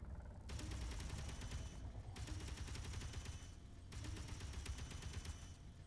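Rapid continuous firing from automated turrets in Space Engineers, a dense mechanical rattle running in long bursts with brief pauses, close and steady.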